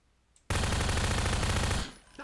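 A submachine gun fires a long, rapid automatic burst lasting over a second in Garry's Mod, loud and close, then cuts off abruptly after a quiet lead-in.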